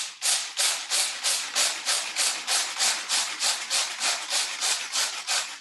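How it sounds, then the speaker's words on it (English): Coffee beans being ground for cold brew in a hand-operated chop and prep: a steady run of about sixteen even, gritty scraping strokes, close and fairly loud, with no one talking. "So we're just going to grind these ourselves"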